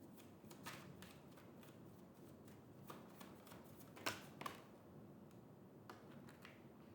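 A deck of cards is shuffled nearby, quiet rapid riffling and snapping flutters in several short bursts, with a sharper crisp riffle in the middle, faint overall and with no talking.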